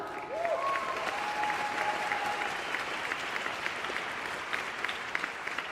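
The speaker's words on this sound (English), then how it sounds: "Yes, let's clap for them" An audience at a people's conference on Gaza breaks into sustained applause, a dense steady wash of many hands clapping at a constant level, with faint whistle-like tones and a few cheers rising briefly near the start.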